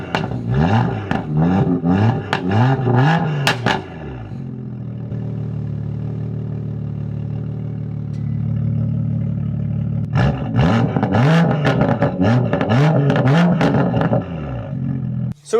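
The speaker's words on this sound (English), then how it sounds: "We're gonna do some revs with the M Performance back box closed" BMW M car engine with an M Performance exhaust back box closed, revved hard in loud repeated bursts, then a steady throaty idle, then another run of sharp revs, close and alone.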